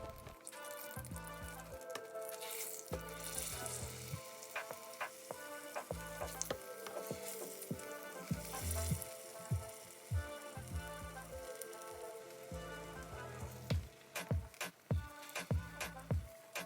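Steady crackling sizzle of plantains frying in hot oil in a pan, with a low rhythmic musical beat underneath and occasional clinks.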